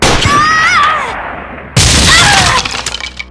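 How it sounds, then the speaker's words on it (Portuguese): A sudden sharp gunshot-like blast cuts in partway through, following a stretch of whirring, warbling tones, with a loud ringing tail afterward. "quanto ela acelera já ligando para o Batman, uma pessoa acerta um tiro nela enquanto ela fala com o morcego."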